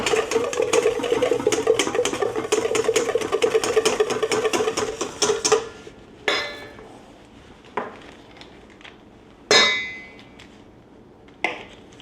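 Butter sauce being whisked in a pot as pats of butter are worked in, with a steady, busy metallic scraping and clinking for several seconds, then a few sharper isolated clinks and taps at intervals.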